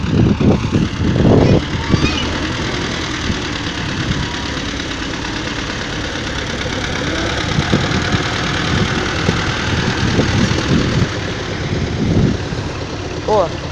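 A YuMZ-6 tractor engine idles with a steady, knocking rumble nearby, while people talk over it off and on.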